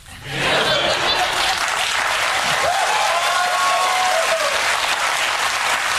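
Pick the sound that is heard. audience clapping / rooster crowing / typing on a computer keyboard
audience clapping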